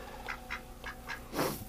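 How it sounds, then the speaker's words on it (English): A duck quacks in short repeated bursts, about five calls spaced evenly, close by, with a louder, harsher call near the end. "What are you doing, little duck?"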